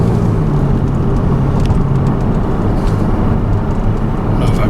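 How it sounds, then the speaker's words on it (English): A Mercedes C300 engine running after repairs to its heat shields, O2 sensor and catalytic converter, a loud, steady low rumble with a constant droning hum and no breaks. "But hey, the car runs again. It actually runs pretty good."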